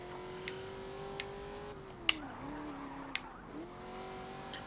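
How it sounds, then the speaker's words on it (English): A race car's tires skid under a quick handbrake tap in Forza Motorsport 7, a steady engine drone sliding into a falling squeal, with faint ticking clicks over the top. "Just tapping the handbrake and we're done."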